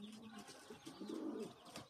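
Soft, throaty cooing from a young homing pigeon hatched this year, a low warbling call that swells in the middle, with faint rustling around it.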